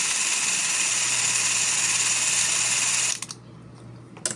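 A steady high-pitched mechanical whirring from a Single-8 film camera cartridge spins continuously for about three seconds after the shutter button is pressed, then stops abruptly, leaving quiet with a couple of small clicks.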